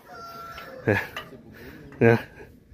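Two short, loud clucks from a rooster about a second apart, outdoors on a mountain climb, with quieter background noise and faint voices between them.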